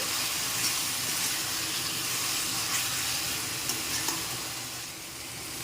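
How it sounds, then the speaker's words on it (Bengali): Ginger-garlic paste masala stirred and sautéed in a pan for mutton curry, a steady hissing sizzle with occasional light scrapes of a spoon. "এখন মশলাটাকে একটু নেড়ে চেড়ে কষিয়ে নিতে হবে"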